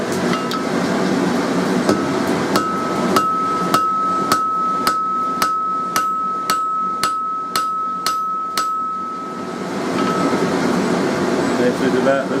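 Hammer blows on hot steel while forging the finial of a door pull: a regular series of about a dozen sharp, ringing strikes with a sustained metallic tone, close and loud over a low workshop hum.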